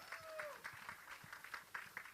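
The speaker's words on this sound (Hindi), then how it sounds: "जोरदार तालियां बजा दें एक बार आप लोग" Faint applause from an audience at the trailer launch of the film Dream Girl, a sparse patter of claps at a distance, with a brief tonal whistle early on and some low background rumble.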